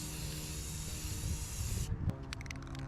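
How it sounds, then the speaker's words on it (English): Spray paint hisses steadily from a can onto BabylissPro FX hair clipper parts, a loud continuous sweeping burst that cuts off abruptly near the end, leaving quieter handling noises. "Trying to spray downwind, but you know you're gonna want to be sweeping coats."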